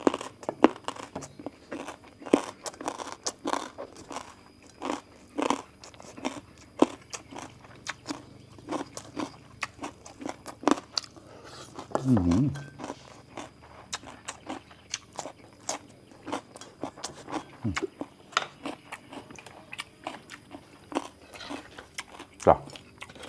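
People eating dinner together produce a long run of close crunchy bites and chewing with occasional rustling and crinkling, as irregular sharp clicks across the whole stretch, while voices talk in the background.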